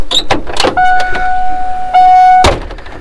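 An OBS-era Ford crew cab truck door is worked from outside with several sharp clicks and clunks of the latch, a steady electronic chime ringing through the middle, and a final solid thunk, loud and close.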